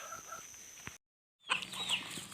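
Chickens on a rural village farm, soft scattered clucks and a brief higher call, faint and close, broken by a short silent gap midway.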